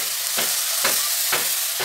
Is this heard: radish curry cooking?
yes